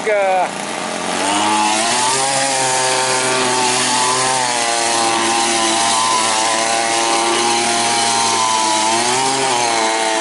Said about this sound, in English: we're going to do a few more donuts